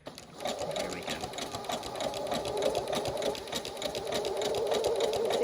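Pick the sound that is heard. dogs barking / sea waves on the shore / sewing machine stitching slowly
sewing machine stitching slowly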